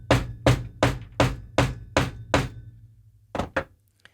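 A grommet setter struck repeatedly with a hammer to attach a grommet: seven evenly spaced sharp, solid blows, then a short pause and two quicker strikes, with no voices.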